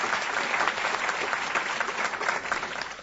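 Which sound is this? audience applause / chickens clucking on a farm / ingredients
audience applause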